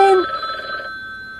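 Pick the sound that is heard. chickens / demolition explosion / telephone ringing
telephone ringing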